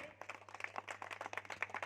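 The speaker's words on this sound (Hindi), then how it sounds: "आप लोग तालियों से सम्मानित करें।" At an honour ceremony in the courtyard of an electricity office, an audience claps in quick, fairly even beats, faint and somewhat distant, for a short burst.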